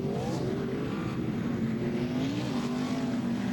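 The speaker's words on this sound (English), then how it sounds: "And you can hear them revving them up, DJ" NASCAR stock cars rev their engines at a race, a loud continuous roar with rising and falling pitch from several cars, no talk over it.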